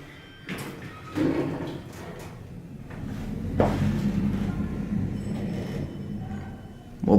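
The doors of a 1989 Montgomery traction elevator at a resort hotel slide slowly with a low rumbling glide and a few soft thumps. The sound is moderately close in a quiet cab.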